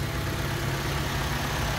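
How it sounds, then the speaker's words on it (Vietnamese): A 2008 Toyota Innova's engine idling smoothly, a steady, continuous low mechanical hum with even drone and no revving, heard close and alone without voices. "máy nổ là êm ru"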